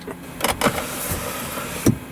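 A motorized head-unit screen on an Audi RS6 (C7) rising out of the centre dashboard, a soft whirring power motor with a few faint clicks, close up in a quiet car cabin.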